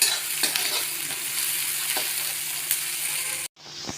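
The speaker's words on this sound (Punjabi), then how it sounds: "ਨਾਲ ਹੀ ਆਪਾਂ ਕੱਟੀ ਹੋਈ ਹਰੀ ਮਿਰਚ ਪਾ ਦਵਾਂਗੇ ਤੇ ਇਹਨਾਂ ਨੂੰ ਆਪਾਂ ਭੁੰਨਾਂਗੇ" Chopped green chillies roasting in a hot pan for restaurant-style masala bhindi, a steady close sizzle with a few light stirring clicks, cutting off abruptly near the end before faint hiss returns.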